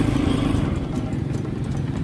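Rusi KR250 Super Motard motorcycle engine idling close by, a steady low rumbling throb with light mechanical clatter throughout.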